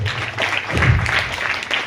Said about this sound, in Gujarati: તાળીઓથી આપણે વિમોચનને વધાવી દઈએ છીએ